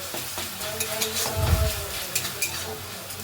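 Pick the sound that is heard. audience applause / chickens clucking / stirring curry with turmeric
stirring curry with turmeric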